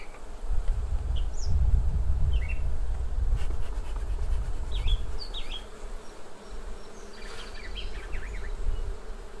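Dense, low buzzing of many honeybees around an open hive, close by, rising and falling continuously, with faint bird chirps in the background.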